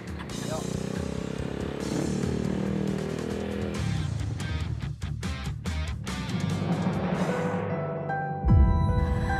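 A motorcycle engine revs and pulls away, loud and close at first and then fading into the distance, with speech-like sound mixed in throughout.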